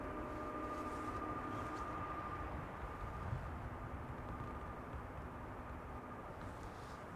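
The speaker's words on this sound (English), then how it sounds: "Iberia Express A320 arriving from Madrid" An Iberia Express Airbus A320 from Madrid on approach to Amsterdam Schiphol, a distant, even jet roar and rumble holding steady and fairly faint throughout.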